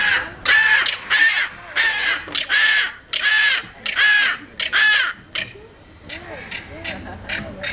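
A loud, harsh crested caracara call repeated in rhythmic bursts of rattling, grating caws, with a few quieter calls trailing off at the end.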